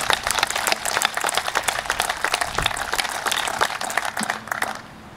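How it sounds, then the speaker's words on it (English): A crowd at the opening ceremony of a Hammond aquatic center gives a loud, dense round of applause that holds steady for about four seconds before fading quickly at the end. "without giving them a big round of applause"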